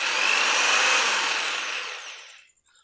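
An electric drill machine spins anticlockwise in reverse with a loud, even whir that gradually winds down and stops, with no talk.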